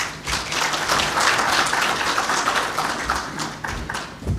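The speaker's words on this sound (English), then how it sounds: "again we applause her in a better way" A crowd at the launch of Kenya's national alcohol control policy bursts into lively applause, close and dense with some sharp individual claps and thumps, tapering slightly near the end.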